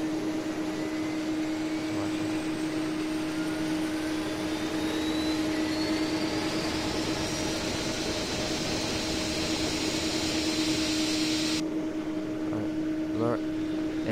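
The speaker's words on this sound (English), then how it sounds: "Just watch the engine start." A steady flight-simulator jet engine whine as the engine starts, a rising turbine tone slowly climbing in pitch over a constant low hum, continuous throughout.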